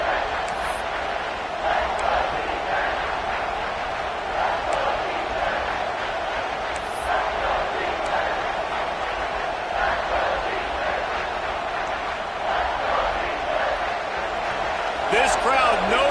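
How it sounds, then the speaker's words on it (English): Football stadium crowd roaring for the home defense on a goal-line stand, a dense sustained cheer with rising swells and sharp accents, loud throughout with an announcer talking over it. "This crowd knows this defense needs them right now."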